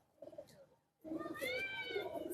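A Napta breed pigeon in a loft gives soft low coos, briefly quiet in between, followed by a louder, denser stretch of close sound.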